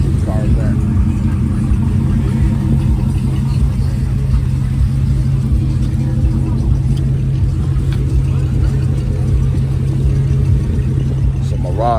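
A Mercury Marauder's engine rumbles steadily at an outdoor car show in Mundelein, Illinois, with a constant low idle heard beneath people talking nearby.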